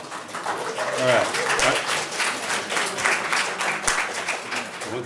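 An audience claps at a city commission meeting in Ocoee, a short burst of scattered applause in a large room that fades within a few seconds, with a voice speaking over it.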